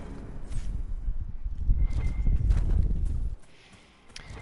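Horse hooves clip-clopping in the fantasy video game Dragon Age: Inquisition, a close, steady run of hoof beats that stops abruptly near the end, leaving faint ambience.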